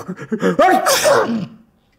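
A single loud sneeze close by, a brief breathy intake followed by a sharp voiced burst that trails off into quiet, with no talking.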